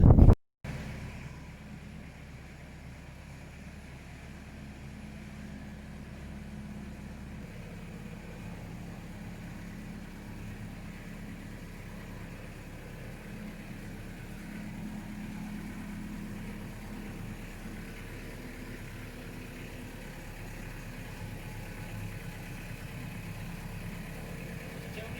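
A low, steady tractor engine idle rumbles continuously throughout, with some wind noise and no talking.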